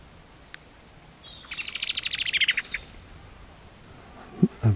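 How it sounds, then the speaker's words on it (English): A single bird near Lamlash on the Isle of Arran gives a quick rapid series of about a dozen sharp, high chirps in a burst lasting around a second, clear over quiet background. "A bird's squawking there."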